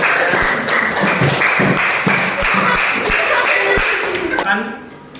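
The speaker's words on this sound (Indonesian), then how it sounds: "beri tepuk tangan untuk teman-teman" A classroom audience claps for a presenting group, a dense, loud, sustained patter of many hands with a few sharper slaps, fading out near the end.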